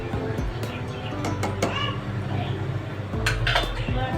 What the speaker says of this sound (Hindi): अब मैं इसके साथ अच्छे से मिक्स करूँगी ताकि चावल बिल्कुल हलीम हो जाए अच्छे से।